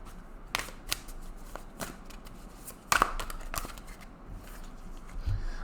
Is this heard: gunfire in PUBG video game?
no